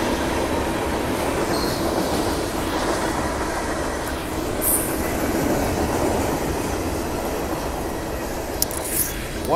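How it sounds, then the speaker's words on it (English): A long Union Pacific freight train, the MROMI, rolls southbound through Oakland Coliseum station with a loud, continuous rumble of wheels and cars. Brief high squeals cut in near the end. "MROMI freight train going southbound towards Milpitas"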